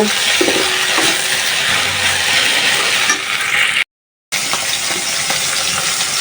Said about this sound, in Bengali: পুঁটি মাছগুলো আগে একটু হালকা একটু বেজে নিই